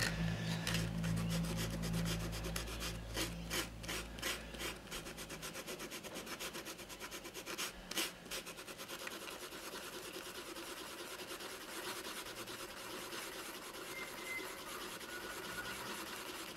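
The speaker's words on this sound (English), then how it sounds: "I'll just step it down and use a 120 just to get into these little stubborn stains in here" 120-grit sandpaper is rubbed over an old felt slouch hat to lift stubborn stains. The rasping strokes are steady and repeated and stay close and fairly quiet throughout, with a low hum heard under them early on.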